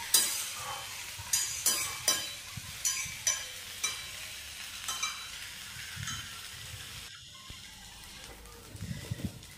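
Cooked rice being stirred in a hot pan with ghee and garam masala, a soft sizzle under a series of sharp spatula scrapes and clinks, busy at first, then quieter toward the end.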